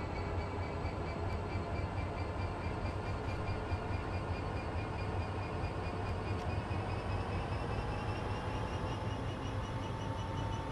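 An EWS Class 66 diesel locomotive in Train Sim World 2020 pulls away after brake release, a steady loud engine drone and low rumble holding throughout with a faint rising whine, no talk.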